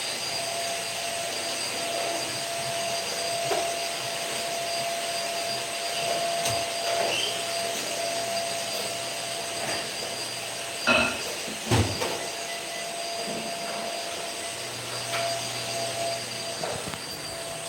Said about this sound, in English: Sorry about the vacuum.